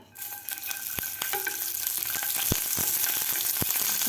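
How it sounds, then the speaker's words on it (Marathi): Garlic fries in a little oil in a pan until golden for a mixed chutney, giving a steady close sizzle with scattered sharp pops and clicks from stirring. "आता त्याच पॅनमध्ये आपल्याला लसूणसुद्धा व्यवस्थित तळून घ्यायचं आहे थोडंसं तेल घालायचं आहे आपल्याला"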